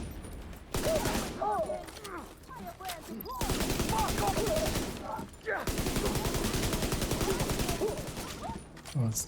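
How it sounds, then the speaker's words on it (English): Rapid bursts of video game gunfire crackle in long sustained volleys, loud and close, with a voice talking over the shooting between bursts. "Oh, that was some shooting on my part."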